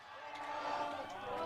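Fans and players in the dugout at Bernie Arbor Stadium whoop and cheer after a home run in a London Majors baseball game. The crowd noise is a diffuse, distant roar under a commentator's talk.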